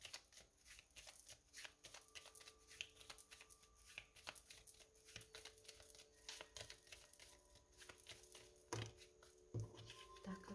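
Tarot cards are shuffled and drawn close up during a quiet reading. Soft riffling, flicks and light taps repeat unevenly for several seconds, faint and without talk.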